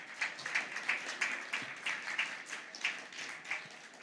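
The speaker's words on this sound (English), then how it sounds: "Let's put them at ease with a big round of applause," An audience at a panel discussion on compound semiconductors and net zero breaks into steady applause, dense clapping sustained throughout with no voices over it.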